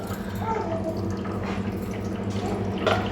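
Water poured into a country chicken curry as it cooks, a steady close splashing and trickling over a constant low hum, with no clear talk.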